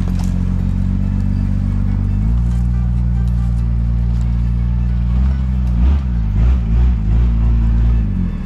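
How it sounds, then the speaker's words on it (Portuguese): A cattle truck pulls in, its heavy diesel engine droning low and steady with harmonic rumble, then shifting and clattering as it slows nearby on a farm corral. "O caminhão vindo aí."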